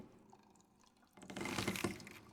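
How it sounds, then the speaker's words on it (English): Water dripping inside the Tomb Raider video game: faint, scattered drips over a quiet background at first, then a louder burst of splashing, trickling water that continues to the end. "Water drips."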